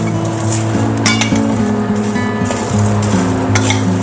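Sunflower seeds and other seeds roasting slowly in a pan over a low flame, a steady soft sizzle with light clinks and scrapes of stirring throughout.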